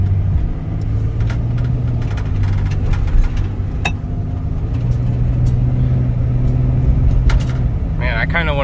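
A Jeep Grand Cherokee driving through a tunnel, its engine drone and road noise steady and close from inside the cabin, with loose items rattling in the back and someone talking over it.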